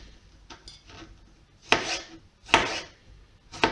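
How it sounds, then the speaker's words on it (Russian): A knife cuts tomatoes into wedges on a board for a smoked chicken and Korean carrot salad, with several sharp, close chopping strokes, the three strongest evenly spaced toward the end, and no talking. "Их мы нарезаем просто вот так, кубиками или скорее дольками."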